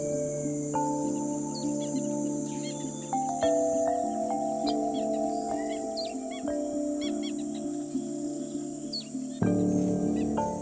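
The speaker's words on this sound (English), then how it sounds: "Deep in the forest of West Papua live the most incredible birds." Forest birds in West Papua call and chirp in brief bursts over a steady, dense layer of insect buzzing and tonal drones, with no voices.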